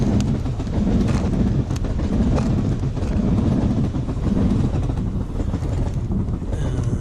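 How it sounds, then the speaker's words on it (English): A train passes near a beach with a continuous loud rolling rumble and rhythmic rattling, heard alone with wind buffeting the microphone. "There's a train."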